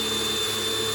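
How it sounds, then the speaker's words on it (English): A power drill runs steadily as it bores a hole through a metal pipe flange for an industrial pipe shelving unit, a continuous close whirring motor drone with no talk. "Okay, so I have my drill."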